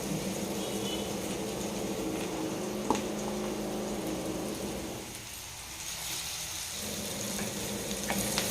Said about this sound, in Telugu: ఇప్పుడు ఈ పీతలు వేసుకుందాం దీంట్లో